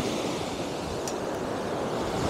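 Choppy sea waves roll in at Blackpool near high tide, a continuous broad roar of surf mixed with gusting wind, steady and moderately loud throughout.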